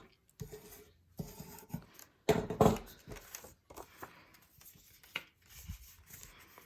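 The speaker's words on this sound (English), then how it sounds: "I started creasing every line with the scissors" Paper being creased fold by fold with scissors, a series of close scraping and rustling strokes with bursts of pressing, louder in the middle, with brief pauses between passes.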